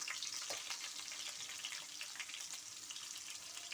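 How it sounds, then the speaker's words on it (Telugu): Onions sizzle and crackle in hot oil for a tempering, a steady bright frying hiss with small pops throughout, close and fairly quiet with no talking. "మన పోపు వేగిందండి, ఆనియన్స్ వేసుకున్నాము"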